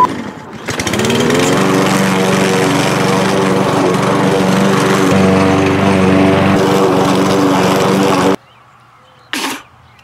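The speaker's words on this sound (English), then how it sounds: "before I embark on this dangerous mowing mission, I gotta make sure I've got my safety gear on" A lawn mower cutting grass at its lowest setting runs loud and close for about eight seconds with a steady droning engine, then cuts off abruptly, leaving quiet with a brief burst near the end.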